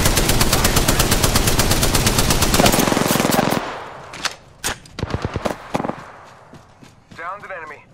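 Rapid automatic gunfire from the Apex Legends video game, a loud, dense burst that stops abruptly, followed by scattered single shots and clicks, with a game voice line near the end.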